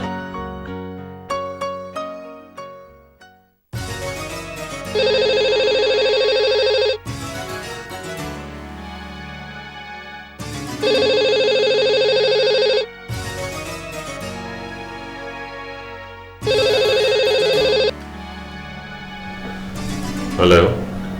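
A telephone rings in a domestic drama scene, three bright repeated electronic ring bursts separated by short pauses, loud and close, with a brief stretch of music or voices before the first ring.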